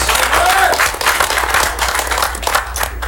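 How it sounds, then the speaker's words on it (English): Audience applause at a poker tournament final table in East Chicago, a dense, steady burst of clapping from a modest crowd, loud and continuous, with a voice briefly heard over it. "Let's give him a round of applause in the 2 seats."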